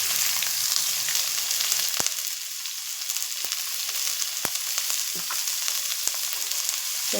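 Green chillies and onions fry in hot oil in a kadai, giving a loud, continuous sizzle close by, with a few sharp clicks of stirring cutting through the crackle.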